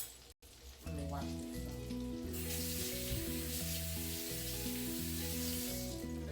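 Potato chips or onion rings fry in hot grease, giving off a steady, bright sizzle that holds throughout. Background music with stepped tones plays underneath.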